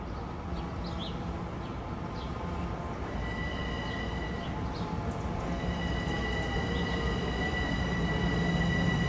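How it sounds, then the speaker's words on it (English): A Long Island Rail Road Port Washington Branch local train rumbles steadily into a station, wheels faintly squealing above the low roar, with birds chirping now and then. "here comes train 1362. It's a local from Penn Station to Great Neck."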